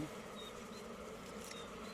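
Bees buzz steadily and quietly around a hive in a continuous low drone, many insects humming together up close.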